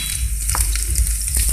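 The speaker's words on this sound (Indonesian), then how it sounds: "Setelah itu kita bunda masukkan bawang putih," Garlic fried in a pan sizzles loudly and continuously up close, with scraping stirring strokes breaking through at intervals and no talking.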